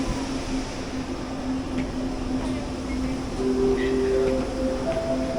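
Quito Metro train standing at a platform before departure, a steady low electrical hum and ventilation drone with a faint rising tone near the end, moderate and continuous with station ambience.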